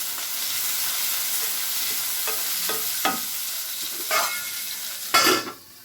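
Capsicum fry stirred in a pan after salt is added: a constant sizzle with a few scraping spoon strokes, the last one loudest before the sizzle drops away, no voices.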